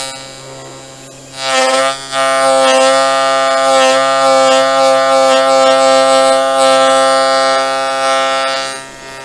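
Sainsmart Genmitsu 4040 Pro CNC router cutting tenon shoulders in wood, a loud, steady, high whining spindle tone with rich harmonics that starts abruptly and holds for several seconds before tapering off, with no talk.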